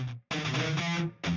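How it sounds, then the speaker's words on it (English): An octave-up lead guitar melody from the Shreddage 2 Revolver Mark 3.5 sample library, played with a Solo Mute plugin, comes in quick distorted phrases broken by brief gaps, moderately quiet and alone. "it is a guitar lead. This is a sound font called Shreddage 2,"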